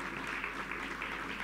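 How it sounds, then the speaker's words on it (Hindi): A seated audience at a Hindi comic poetry recital claps, a steady, fairly faint wash of applause with no break across its short length. "बस आपकी तालियों से मुझे पता चल गया कि आप कितना बढ़िया सुनेंगे"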